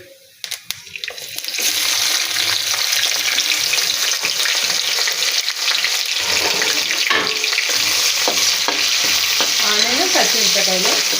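Cumin and mustard seeds drop into hot oil after a quiet start, bursting into a loud, sustained sizzling hiss with sputtering pops that carries on close up to the end.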